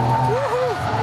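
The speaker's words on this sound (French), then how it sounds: "Légère dérive qu'on peut entretenir malgré les 4 roues motrices." Lamborghini Murcielago LP640 drifting slightly through a long curve, its engine droning steadily while a tire squeal rises and bends in pitch, close and loud from the cabin.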